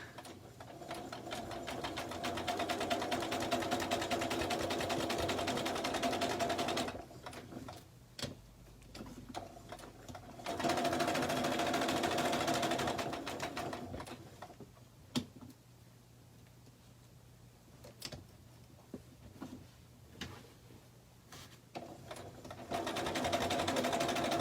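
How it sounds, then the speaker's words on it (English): A sewing machine stitches a Liberty fabric table runner in steady, rapid mechanical bursts, running continuously for several seconds, pausing with scattered clicks and handling noises, then starting up again. It is close by and fairly quiet, with no talk. "So the boring part of watching me sew is almost over."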